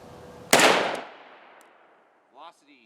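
A single loud, sharp report from a short-barreled 5.7x28mm rifle firing 40gr Barnes VLC Elite ammunition, with a crack that decays over about a second outdoors and is followed by a brief voice.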